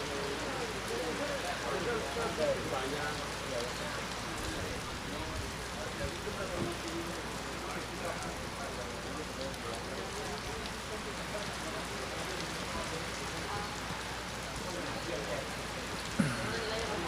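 Rain falling steadily on an outdoor footgolf course, a dense even hiss with scattered droplet patter and a brief knock near the end.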